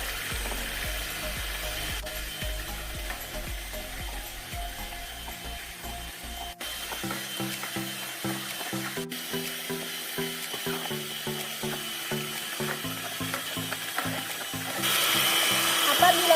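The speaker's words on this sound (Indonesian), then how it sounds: "Lalu kita aduk menggunakan mixer dengan kecepatan tinggi sampai mengental." An electric mixer whirs at high speed through a herbal soap mixture of olive oil, palm oil and glycerin, giving a steady mechanical drone with shifting pitch that grows louder toward the end.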